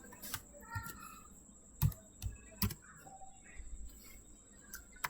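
Sparse keystrokes on a computer keyboard while writing Python code, a few sharp clicks spread across quiet moments, heard close and alone.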